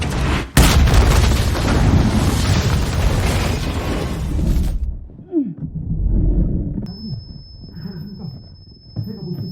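A smoke bomb goes off in a room with a loud boom and a long roaring rush that cuts off abruptly, then faint rumbling and scattered sounds follow.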